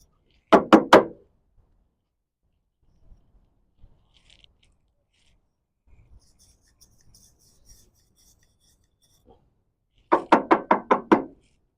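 Brass and steel brushes scrape over metal Honda carburetor parts in two quick bursts of rapid rasping strokes, one at the start and one near the end, separated by a long near-silent stretch with faint taps.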